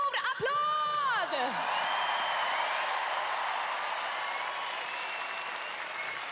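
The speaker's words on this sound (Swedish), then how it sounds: "Globen, ge 2011 års finalister en stor applåd!" A large arena audience at the Globen in Stockholm applauds the Melodifestivalen 2011 finalists, a broad sustained wash of clapping and distant cheering after a swooping tonal sting at the start.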